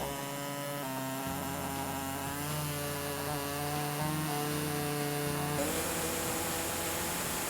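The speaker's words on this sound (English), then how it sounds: "to cut that out, we're going to be using an air saw" Pneumatic air saw cutting out a section of the plastic rear bumper on a 2018 Infiniti QX60, a loud, continuous, close buzzing whine with a slight shift in pitch as the blade works through the plastic.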